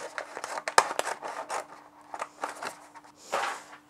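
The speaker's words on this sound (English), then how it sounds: "So I'm just going to get my scissors" Scissors cut through the backing sheet of a large Smart Vinyl transfer during layering, making a close series of quick, crisp snips with paper-like rustling and scraping between cuts.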